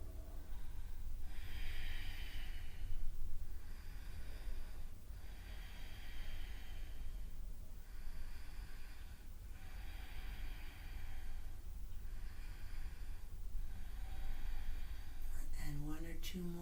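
Deep, steady breathing during a yoga hip stretch using a wall, with slow rhythmic inhales and exhales repeating about every two seconds over a low background hum, close and moderately loud.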